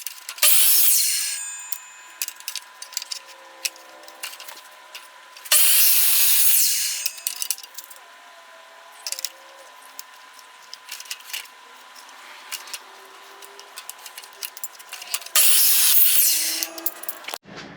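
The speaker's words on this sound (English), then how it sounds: "use the chop saw with just a high tooth woodworking blade. Chopped out our pieces here" A chop saw fitted with a high-tooth woodworking blade cuts wood in three loud, whining bursts of about a second each, with clicks, clatter and handling noises between the cuts.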